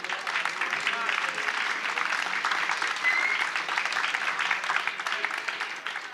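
Steady, dense applause from a large audience at a live talk event against the Calabrian mafia, holding at an even level throughout without pause.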